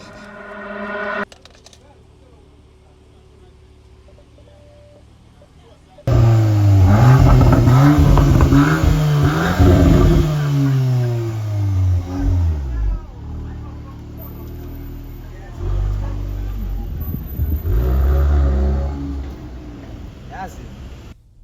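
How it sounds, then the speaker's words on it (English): A Volkswagen Golf 8 R's engine sits quiet after a short burst of voices, then bursts into loud acceleration with rising revs and gear changes. Road and wind noise carry on afterward, with talk mixed in. "So I'm taking the Golf 8R now on a drive."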